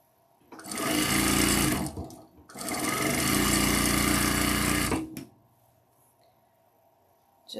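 A sewing machine pieces a long row of quilt fabric, running loud and close in two sustained bursts of about two and four seconds with a brief pause between them, then stopping.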